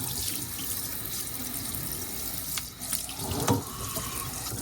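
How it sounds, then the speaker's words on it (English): Tap water runs steadily into a sink to rinse a sharpening stone used for oboe reed knives, a continuous close splashing stream with brief shifts as the stone moves under the flow. "And then just give it a rinse."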